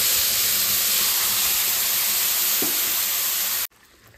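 Onion paste frying in a hot pan for fish rezala gives a loud steady sizzle and hiss that runs continuously and then cuts off abruptly near the end.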